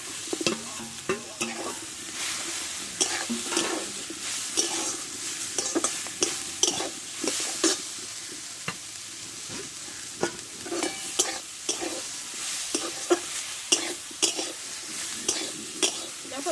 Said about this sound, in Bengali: ডাল আর আলু ভালো করে আমি কষে নিয়েছি একসঙ্গে